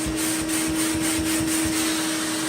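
A shop vac sucks dust out of a Shark upright vacuum filter, producing a loud, steady roaring whine with a pulsing rhythm as the nozzle works over the filter.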